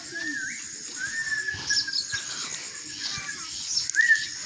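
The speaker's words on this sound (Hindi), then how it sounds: "खूबसूरत मदम आवाज़ में चहचहा रही है" A small bird chirps in a village in the morning, thin high calls repeating at a moderate distance over a faint outdoor background.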